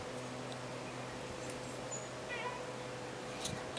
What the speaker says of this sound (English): Oh, that's just the cat.